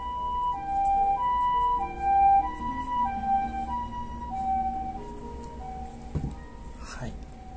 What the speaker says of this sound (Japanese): じゃあちょっと救急車が来ましたね。